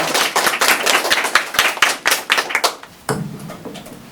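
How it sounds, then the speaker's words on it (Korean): An audience claps at a student presentation in a Korean university class, with sharp hand claps in a quick uneven rhythm for about three seconds before fading into room noise. "네, 박수 한번 주세요."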